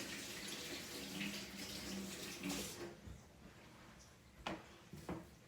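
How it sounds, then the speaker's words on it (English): Tap water runs steadily into a sink during handwashing, a soft, close hiss that fades out near the end, followed by a couple of brief clicks and knocks. "just wash my hands."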